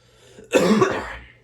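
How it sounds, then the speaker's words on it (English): A single close, sharp cough, abrupt and throaty, in otherwise quiet surroundings. "Hold on, I'm gonna cough."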